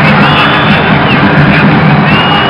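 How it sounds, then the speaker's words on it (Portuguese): Fortaleza supporters in a packed stadium crowd at a Campeonato Cearense match keep up a loud, continuous roar of shouting and jeering as a free kick is slow to be taken, dense and steady throughout. "A torcida do Fortaleza começa a pegar no pé pela demora na cobrança da falta"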